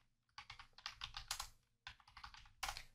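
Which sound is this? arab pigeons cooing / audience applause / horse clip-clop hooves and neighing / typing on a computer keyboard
typing on a computer keyboard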